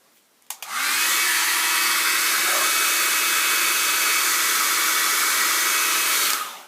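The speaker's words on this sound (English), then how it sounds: "Gotta blow it dry just a little." A hair dryer blows freshly soap-washed triple-thick varnish dry, switching on with a click and then running as a loud, steady whoosh for about six seconds before cutting off.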